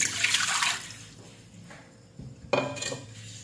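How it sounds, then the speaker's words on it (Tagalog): Water splashes and pours into a metal pot in two bursts while cooking pork adobo, with light clanks of cookware between them. "Maglagay tayo ng tubig."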